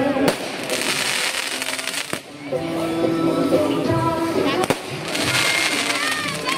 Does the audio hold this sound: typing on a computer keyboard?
no